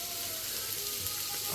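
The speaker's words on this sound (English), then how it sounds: "So we're just searing the sides first. Seems to be sizzling away, so it's going to be cooking." Meat sears in a hot pan with a faint, steady crackling sizzle, brief and continuous with no talk over it.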